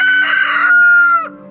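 A rooster left behind at an abandoned farmstead gives one loud, close crow with a rising, strained middle and a sharp falling end, heard alone.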